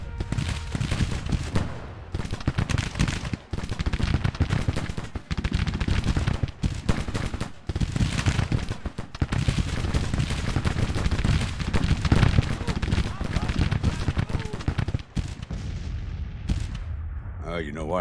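Artillery and massed musket fire in Grand Tactician: The Civil War, a dense, continuous roar of booming cannon and crackling volleys close up, with brief dips between bursts and a short lull near the end.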